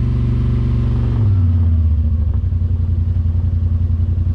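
Yamaha Wolverine X4 side-by-side launching in four-wheel drive, its engine revving loud and close, the pitch dropping and settling into a steady pulsing drone as it pulls away.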